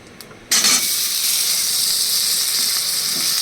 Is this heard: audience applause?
no